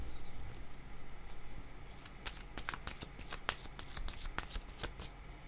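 A deck of cards being shuffled at a reading table, a rapid riffling flutter of cards followed by several crisp snaps, close and clear over a low background hiss, with no talking.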